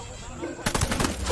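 Gunfire in an Xbox One game, a sharp burst of rapid shots starting partway through after a quieter lead-in, loud and close with fast repeating cracks.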